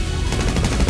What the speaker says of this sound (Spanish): Me están disparando, me están disparando.